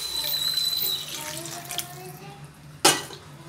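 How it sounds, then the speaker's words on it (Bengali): Water is poured into a pan of potato curry (aloo dum) made with raw potatoes, a continuous splashing stream that ends in a sharp clatter near the finish, with no talking. "তার জন্য পরিমাণ মতো আমি জল দিয়ে দিচ্ছি"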